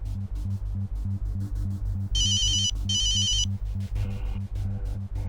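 An electronic telephone ringtone chirps in two bursts over steady rhythmic background music, loud and close with no talking.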